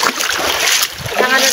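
A vehicle splashes through a river crossing on a rough rural track near a four-hectare property in Antipolo, loud rushing water surging and sloshing close by, with voices mixed in.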